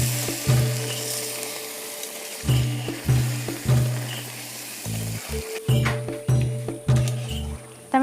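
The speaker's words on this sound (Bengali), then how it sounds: "আমি একটু নাড়াচাড়া করে নেব।" Chicken roast sizzles in a pan while being stirred, with rhythmic scraping strokes of the spatula cutting through a steady frying hiss at close range.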